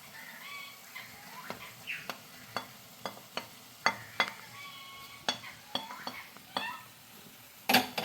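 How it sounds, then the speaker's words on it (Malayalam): Noodles with egg and masala are stirred in a hot pan, with repeated sharp scrapes and taps of a spoon against the metal over a faint sizzle. Brief squeaky scraping sounds come through in between. "മസാല നല്ല പോലെ ഇളക്കി കൊടുക്കണം."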